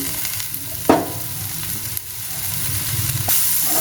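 Dried fish pieces sizzle and fry in a pan with potatoes, a steady close crackle with a couple of sharp stirring clinks and no talk.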